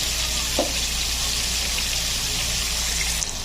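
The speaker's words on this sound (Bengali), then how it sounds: "তো এখন আমি মাছগুলো ভেজে নিচ্ছি" Pieces of catla fish fry in hot oil with a constant, even sizzle and a faint low hum beneath.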